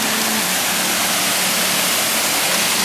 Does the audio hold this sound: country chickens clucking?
no